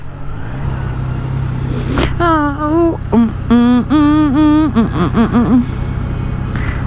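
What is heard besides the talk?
Triumph Trident 660 motorcycle engine revving while riding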